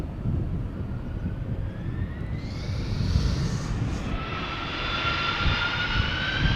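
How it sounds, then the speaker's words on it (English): A 20-year-old Delta Air Lines Airbus A330-300 departs Amsterdam Schiphol for Minneapolis, a close, loud jet roar with climbing turbine whines that strengthens partway through and stays steady. "Delta Airlines flight 161 to Minneapolis, Minnesota, A330-300"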